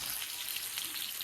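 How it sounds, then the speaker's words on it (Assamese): Fish frying in a pan in a home kitchen, giving a steady, bright crackling sizzle throughout the short moment with no voices. "মাছ ভাজি আছে"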